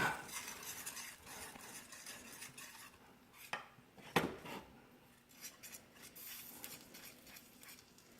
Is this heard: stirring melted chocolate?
yes